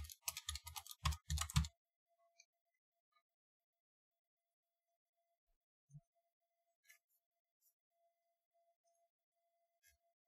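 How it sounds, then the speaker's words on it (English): A password typed quickly on a computer keyboard, a short burst of crisp key clicks for about a second and a half, then near silence with a few isolated faint taps. "type in the password"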